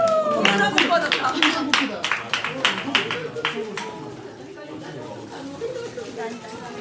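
Bursts of hand clapping from a small group at a children's Christmas gathering, uneven and lively over the first few seconds before thinning out, with voices and chatter running underneath.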